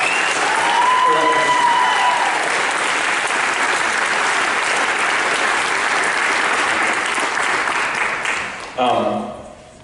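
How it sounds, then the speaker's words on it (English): Sustained audience applause at a high school spring band concert, honoring four candidates, loud and steady for about nine seconds before tapering off, with a brief burst of voices and noise at the end. "Can we give all 4 of our candidates a round of applause for having the courage to go out?"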